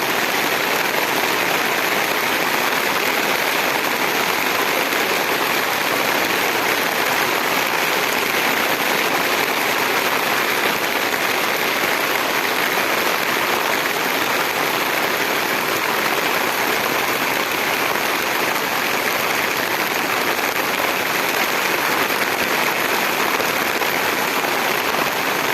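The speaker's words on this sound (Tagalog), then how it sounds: "Ang lakas ng ulan dito sa probinsya ng Bicol." Heavy rain in Bicol province pours in a dense, unbroken hiss, loud and steady throughout with no letup.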